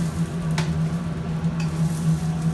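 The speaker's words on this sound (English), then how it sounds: "Sizzling is always a good sound." Steady sizzling of steak frying on a hot griddle, with a couple of brief scraping clinks over the constant hiss.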